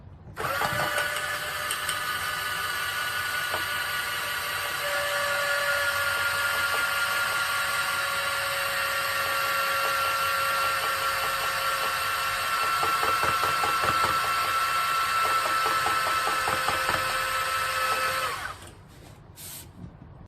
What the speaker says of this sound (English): the screw is so corroded and it's stripped, so I'm gonna have to drill a hole in it.